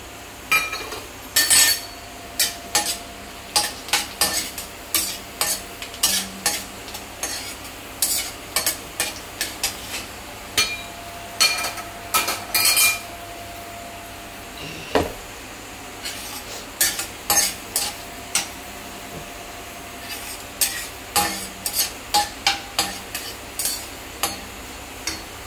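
Cinnamon, cardamom, cumin and cloves fry in a pan under a low steady sizzle, while a utensil repeatedly scrapes and clinks against the pan in quick bursts, close and loud throughout.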